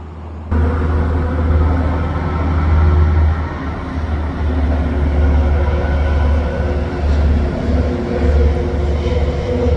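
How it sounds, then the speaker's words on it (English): A train rolls by far off near the Henry Hudson Bridge, heard from a kayak on the Harlem River in New York City as a steady, low distant rumble that fills the whole stretch without a break. "there's a train coming by off in the distance"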